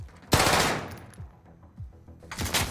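Gunfire in a Warzone gulag fight: a loud burst of rapid automatic shots cracks out, fades into scattered lighter reports, then another heavy burst erupts near the end.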